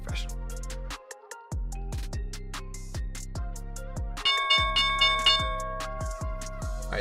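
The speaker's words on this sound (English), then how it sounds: "All right, here's the bell, guys." Stock market opening bell ringing in steady repeated strikes, a clear continuous clanging that grows denser toward the end, with background music underneath.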